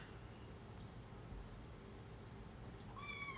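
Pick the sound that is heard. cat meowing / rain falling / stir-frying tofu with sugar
cat meowing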